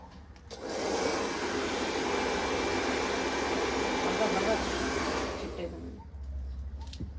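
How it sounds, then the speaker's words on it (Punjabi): A hair dryer blows steadily to dry a freshly applied stone dye coating, a loud, close, continuous rushing whoosh lasting about five seconds before it cuts off, leaving quieter background noise. "ਇਹ ਤੇ ਹੁਣ ਮਾਰਾਂਗੇ ਵੀਰੇ ਆਪਾਂ ਡਰਾਇਰ ਜੀ"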